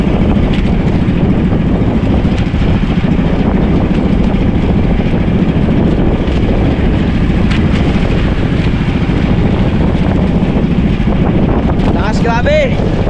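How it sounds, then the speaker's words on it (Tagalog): Strong wind buffets the microphone with a constant heavy roar for the whole stretch, broken only by brief faint thumps. "Ang lakas ng hangin"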